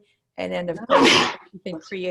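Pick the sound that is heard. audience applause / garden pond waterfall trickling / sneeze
sneeze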